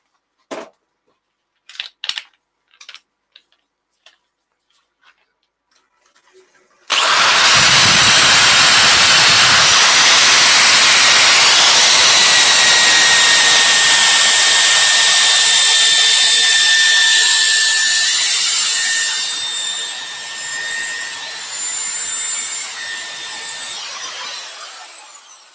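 A few sharp knocks come first, then a wood lathe roars up as a spindle or bowl gouge cuts the spinning wood, a loud, continuous rushing tear with a faint whine that holds and then slowly tapers.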